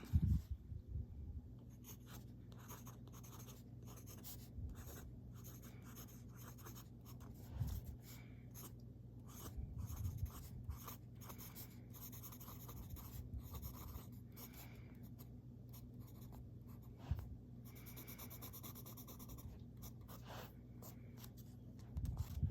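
A broad nib fountain pen loaded with Diamine Espresso ink scratches across paper in close, quiet strokes that continue steadily with small pauses and no talking.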